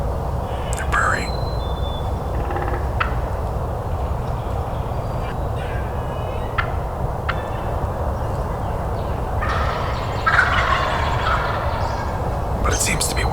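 Wild turkey hens purr and cluck in short scattered bursts, close by, during a turkey hunt, against a steady low background hum with occasional faint whispers.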